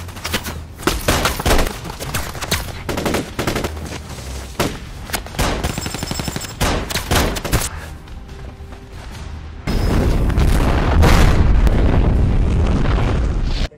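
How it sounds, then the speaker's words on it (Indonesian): Gunfire erupts as a motorcycle gang attacks in an action film, loud repeated shots and bursts rattling in quick succession, then a heavier, sustained roar of blasts toward the end. "tiba-tiba sekelompok pengendara motor datang dan langsung menyerang Gunner dengan tembakan"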